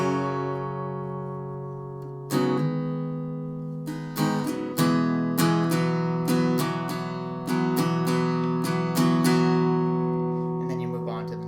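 Close acoustic guitar plays the first part of a song's verse, starting with sustained chords and then a steady run of crisp strums that ring out alone.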